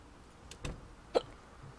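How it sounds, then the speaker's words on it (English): A single sharp hiccup from a man in a quiet room, one brief burst standing out against low background hum, with a fainter similar catch just before it. "I'm sorry for these hiccups."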